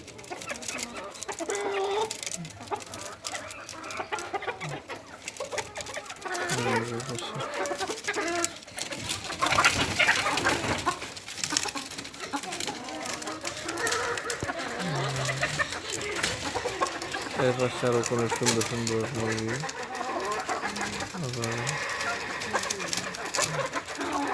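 Native village chickens cluck and chatter on and off throughout on a poultry farm, mixed with bird calls and a busy, steady outdoor backdrop.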